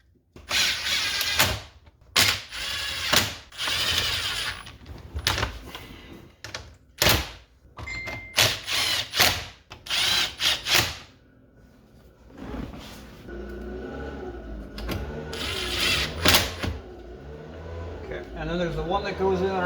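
Power tool driving 7mm bolts into a Corvette C8 dash during reinstallation, sharp whirring bursts and ratcheting clicks in repeated short runs, close by, with someone talking over and between them.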